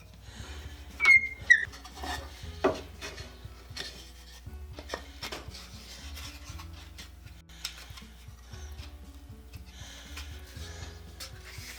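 A hand tool shaves wood off a pallet board in a workshop, making repeated scraping and ticking strokes, louder at first and then lighter and irregular, with knocks between passes.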